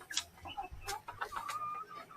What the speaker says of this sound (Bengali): তো আমার মুরগিগুলো কি অবস্থা একটু দেখি আপনাদেরকেও দেখাই